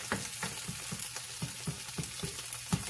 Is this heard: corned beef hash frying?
yes